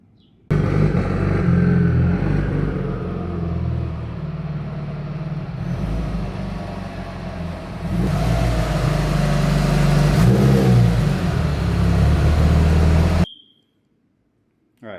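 A Mitsubishi Evo 9 idles and rolls into a garage, its engine droning loudly and steadily before cutting off abruptly near the end.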